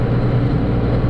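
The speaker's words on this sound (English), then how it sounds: "A little bit of a loud tractor" A loud old tractor engine running steadily at idle, a rough continuous low rumble close by.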